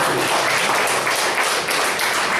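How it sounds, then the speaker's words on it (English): Sustained applause for two evaluators at a Toastmasters evaluation session, a steady dense wash of many hands clapping together for a couple of seconds with no speech over it. "So huge round of applause to both the evaluators."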